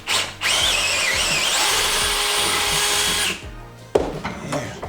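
A power drill hogs out the bolt holes of a car's lower control arm to fit larger bolts for an anti-roll bar, a loud sustained whine for about three seconds. It stops, then a short burst of metallic rattling follows.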